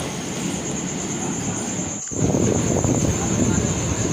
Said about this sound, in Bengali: শান্তিপুর লোকালে চেপে যাব হবিবপুর এটা সাতটা কুড়ি পঁচিশ নাগাদ ছেড়েছে শিয়ালদা থেকে এখানে ঢুকলো প্রায় আটটা